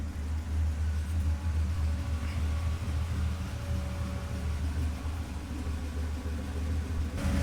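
A truck's engine rumbles steadily at idle right after a burnout, a loud continuous low drone with no pauses and no voices.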